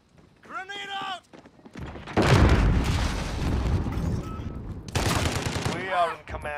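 A grenade blast and rattling automatic gunfire in Call of Duty MW1 fill a sustained loud stretch, with shouted in-game voices before and after the barrage.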